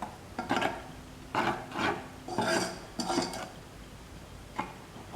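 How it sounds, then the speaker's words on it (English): Sweet bread batter stirred in a bowl with a spoon: about five scraping, rubbing strokes at a steady pace, close and moderately quiet, with light knocks against the bowl. "Keep on mixing."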